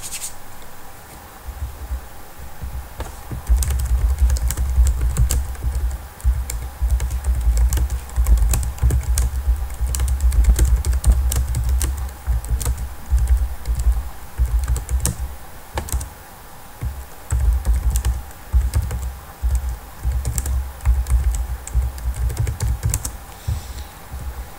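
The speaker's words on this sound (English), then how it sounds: "Sorry if you hear some typing noise. That's because I'm typing in chat window in this live chat." Continuous typing on a computer keyboard in a live chat window during a Clash of Clans stream, rapid irregular key clicks and thumps, close and fairly loud throughout, with no talking.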